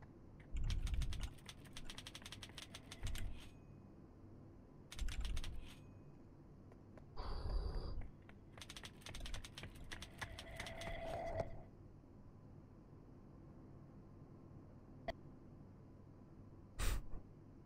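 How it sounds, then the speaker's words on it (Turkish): Clicky bursts of typing on an F-layout computer keyboard come in several separate flurries, close and fairly quiet, with pauses and a single sharp tap near the end. "F klavyede yazmak çok zor ya chat"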